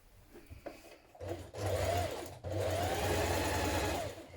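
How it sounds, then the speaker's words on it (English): A sewing machine runs in two steady bursts, stitching the front sections of a long coat together at the centre back neck, with a brief pause between runs and quiet handling beforehand. "Now you're going to stitch your front sections together at the centre back neck here"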